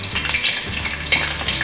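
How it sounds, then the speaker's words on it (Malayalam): Nuts fry in ghee and oil in a pan for mutton biryani, a close, steady sizzle with light stirring and occasional crackles. "നോക്കിയിട്ട് നട്ട്സ് ഇട്ട് ഒന്ന് വറുത്തെടുക്കാം."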